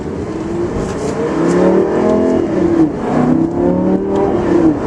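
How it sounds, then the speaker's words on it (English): A 2011 Lamborghini Gallardo LP570-4 Superleggera with a tuned, ceramic-coated exhaust accelerates hard nearby, its loud engine note rising and falling through gear pulls for several seconds with no talking. "The car has a ceramic-coated exhaust that's tuned and amplified a bit from the regular Gallardo LP560s and 550s"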